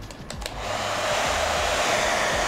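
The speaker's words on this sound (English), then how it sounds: "This is the same 1200 watt hair dryer." 1200 watt hair dryer powered by a portable EcoFlow R600 power station switching on after a few faint clicks, then a loud, steady whooshing blower roar that holds continuously close by.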